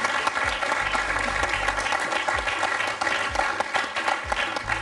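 Loud, sustained applause from a large studio audience on the French quiz show Questions pour un champion, steady clapping filling the whole stretch without a break.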